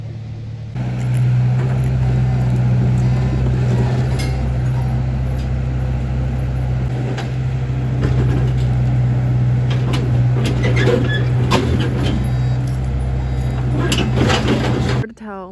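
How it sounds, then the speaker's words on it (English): A large truck rolls up on a farm homestead, its steady low engine drone running loud and close through the whole stretch, with clatter and thumps on top and people talking over it. "Well, the truck arrived."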